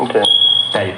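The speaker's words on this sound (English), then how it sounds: "That is sound of a house alarm running out of batteries." A house alarm chirps as its batteries run down, a single high steady electronic beep lasting about half a second between bits of nearby speech.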